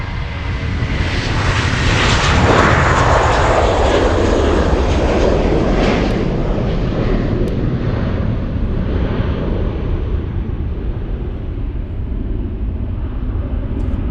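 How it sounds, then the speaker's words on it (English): An airliner landing at Munich airport on the south runway roars loudly as it passes close by, a broad jet rumble that swells around two seconds and then slowly fades while the engine whine lingers. "LA flight landing south"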